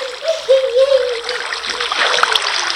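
A water bucket splashes in the Minecraft video game, a short watery splatter and trickle at close range with faint voices behind it.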